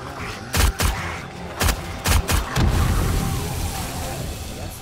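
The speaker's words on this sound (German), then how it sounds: "Auto ist explodiert. Ja, das habe ich wohl hochgejagt." Several sharp gunfire bursts are followed by a car exploding, its loud roar fading slowly, amid video-game effects in 7 Days to Die.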